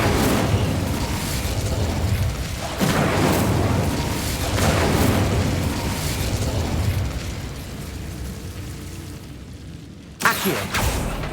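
A fire spell cast in the Hogwarts Legacy video game, roaring as a loud, sustained fiery blast with bursts and booms, breaking off briefly before a sharp new burst near the end.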